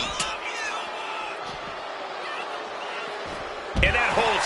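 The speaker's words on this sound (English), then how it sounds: "Just listen to this crowd. Every one of them is on their feet." Arena crowd in the WWE 2K26 wrestling video game roars steadily as a loud continuous wash, swelling with a burst of cheering and impacts near the end.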